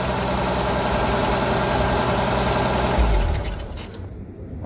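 A cold Jeep CJ-7 engine holds a steady high idle, a loud, even mechanical drone that drops off somewhat toward the end.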